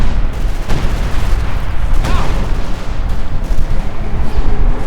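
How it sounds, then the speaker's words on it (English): Heavy assault guns fire amid a dense Company of Heroes 2 battle, with repeated booming blasts over a constant loud rumble of combat noise. "Those heavy assault guns are devastating"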